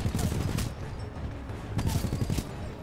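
20 mm weapon firing in the video game Titanfall 2, dense rapid bursts of heavy gunfire with a couple of sharp volleys, loud and close, mixed with other game noise.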